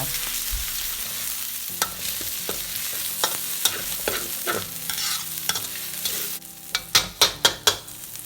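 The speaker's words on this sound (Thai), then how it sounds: "ผัดพริกแกงเผ็ดกับน้ำมันให้หอมเลยนะคะ" Red curry paste stir-fried in hot oil, a constant sizzle broken by scraping spatula strokes and a run of sharp clanks against the pan near the end.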